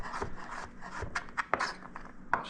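A kitchen knife julienning food into fine strips for a sardine almondine dish, giving a run of soft, close rubbing cuts with a few sharper knocks against the board, with no talking.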